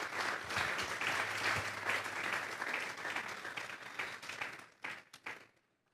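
Congregation applause during a church sermon, a full crowd clapping that swells and holds, then thins into a few scattered last claps before stopping.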